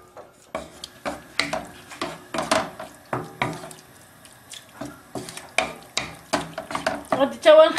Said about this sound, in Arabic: غادي توا نخلطوه كما كنديروا كاع العناصر